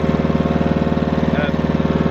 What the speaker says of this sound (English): mowing a lawn on a slope is easy if you've got a self-propelled mower